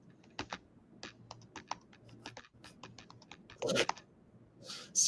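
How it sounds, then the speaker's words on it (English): Rapid, uneven clatter of a computer keyboard during a live stream, close individual key strikes in bursts with a few louder heavy presses, no talking. "You can hear the ferocity in the keys."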